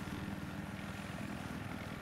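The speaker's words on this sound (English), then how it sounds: "Scout chopper is going on Delta." A scout helicopter in Battlefield 3 on the Armored Shield map drones steadily with a low rotor thrum, moderately loud and continuous, with no talk over it.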